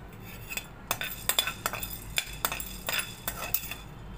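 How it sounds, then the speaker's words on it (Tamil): About ten black peppercorns dry roasted in a pan, a quick run of sharp metallic clinks and rattles as the pan is tossed or stirred, close and alone. "நான் ஒரு 10 மிளகு போட்டு இதை வறுத்து எடுத்துக்க போகிறேன்."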